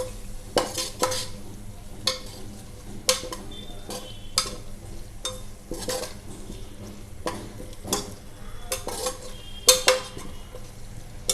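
A spoon scrapes and clinks against a pot as a fish curry mixture with ground coconut powder is stirred, a close run of repeated irregular knocks and scrapes over a faint background sizzle, no voices.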